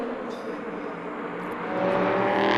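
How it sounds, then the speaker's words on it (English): LMP3 race cars overtaking in a European Le Mans Series race, a continuous loud engine roar that swells toward the end as the cars pass close by. "Penttinen is wide in the number 9 Graf car and loses both places to the Polish squad."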